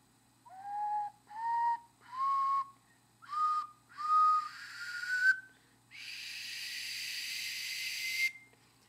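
A soprano ocarina plays a series of short, clear breathy notes, six separate toots stepping upward in pitch, then one long sustained airy note, close and solo.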